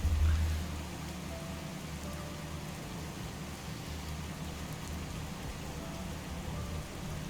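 Steady rain from a weather mod in Skyrim, a continuous hiss of falling rain with a low rumbling undertone, louder at the very start and then even throughout.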